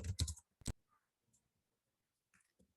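A few quick clicks on a computer keyboard, loud and close at the start, then a handful of faint taps scattered across a mostly quiet stretch.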